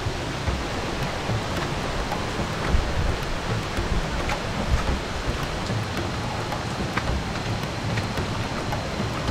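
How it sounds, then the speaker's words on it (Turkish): Steady rain falling near a waterfall on Koh Samui, a dense even hiss of drops with scattered patters, continuous and fairly close, with no voices. "İşin tuhafı yağmur başladı arkadaşlar."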